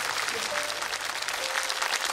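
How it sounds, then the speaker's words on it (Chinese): Sustained applause from a live studio audience on a Korean-Chinese fashion show, steady and fairly loud broadband clapping with no gaps, mingled with faint crowd murmur. "我想现场所有人的掌声哈，已经证明了他们心里面已经原谅了娜娜啊"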